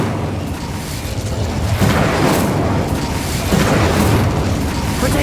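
Incendio fire spell blasts in Hogwarts Legacy, loud booming bursts over a dense, roaring background, with a couple of heavier hits spaced a second or two apart.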